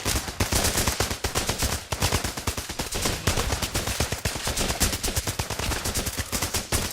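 AK rifle gunfire in the video game Running with Rifles, loud rapid bursts of automatic shots in dense overlapping volleys that run throughout the clip.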